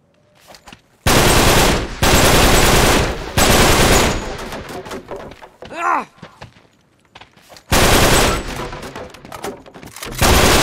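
Automatic gunfire in the remastered video game Uncharted 3: Drake's Deception comes in loud, sustained bursts separated by brief lulls, with a short groaning voice between volleys.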